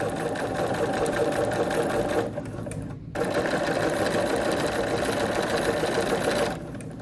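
Steady, close hum of a sewing machine piecing nine-patch quilt squares together, running almost without pause apart from a short break partway through.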